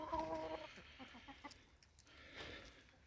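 Chickens in a coop cluck softly while eating, with a few short calls at the start followed by scattered faint pecking and shuffling sounds, quiet and close.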